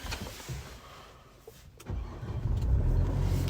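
A 2018 Nissan Navara 2.3 dCi Tekna automatic starts with a quick crank and catch, then settles into a steady, close idle that grows a little louder after the start.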